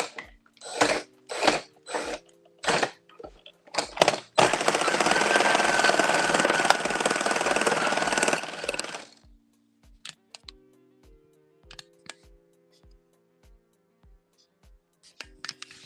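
A hand-cranked knitting machine works a baby hat, giving a run of sharp clacks, then a steady rasping whir for about four seconds, then sparse ticks and clicks, all close and with no talk.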